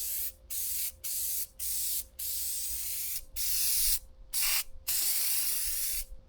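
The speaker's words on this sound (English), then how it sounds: "I'm gonna start painting now." Aerosol spray paint hisses in repeated bursts while coating rock sliders on a 6th-gen Toyota 4Runner TRD Pro, about nine loud, close sprays of roughly half a second to a second, separated by short pauses.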